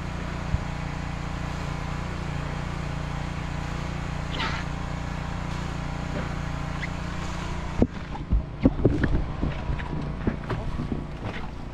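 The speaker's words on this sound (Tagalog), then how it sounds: "lakas ng hangin" Strong wind blows through a hole in a storehouse, a steady, loud roar buffeting the microphone throughout, with some knocking and rattling toward the end.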